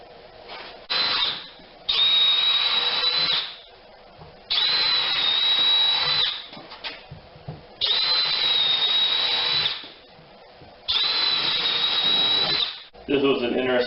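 A power drill drives deck screws into wood in four long, loud bursts of high whining, each lasting about two seconds, separated by short pauses.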